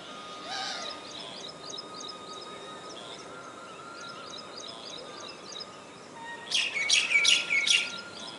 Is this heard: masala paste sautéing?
no